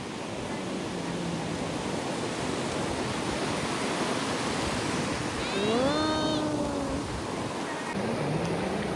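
Ocean surf rolls steadily at Badami beach in Alibag, a broad continuous wash of breaking waves near the shore, with a brief tonal whistle-like call rising over it partway through.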